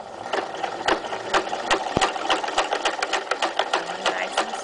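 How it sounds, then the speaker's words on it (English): A sewing machine stitches close to the edge of a lower pocket on a locker caddy, a fast steady mechanical chatter of needle strokes at moderate loudness, running throughout with no one talking. "Now remember, you're still sewing right close to the edge there."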